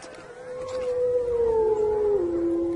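A wolf howls in a winter valley, a single long, loud, sustained note that slowly falls in pitch near the end, heard alone.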